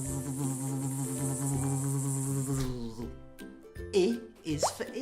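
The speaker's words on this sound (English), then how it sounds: "B is for bee." A bee buzzes in a steady, tonal drone for a few seconds, then breaks off into short, scattered cartoon-like sound effects.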